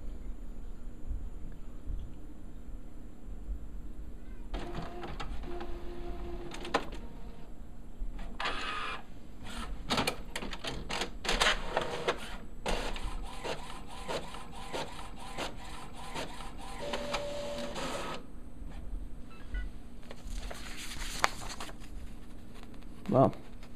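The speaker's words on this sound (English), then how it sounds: "this is a network printer with no PC attached to it." A network printer with no computer attached prints a photo sent wirelessly from an Android phone, giving a run of mechanical whirring, clicking and paper-feed rubbing that starts and stops, heard up close under light speech.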